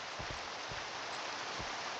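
Rain falls steadily in Minecraft as a constant, dense wash of soft hiss, with a few faint, low thumps mixed in.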